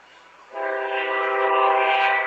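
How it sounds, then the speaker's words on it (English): A train horn blares into a long, steady chord as the train rolls through town at night beside a Fort Morgan high school football game, starting abruptly and holding loud and close-sounding to the end. "Here comes our famous whistle of the night from the train going through."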